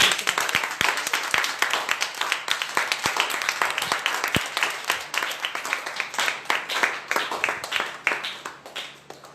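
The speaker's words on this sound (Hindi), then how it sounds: "सब जोरदार तालियां बजाइए।" A church congregation claps loudly and continuously, dense applause holding steady for several seconds before slowly thinning toward the end.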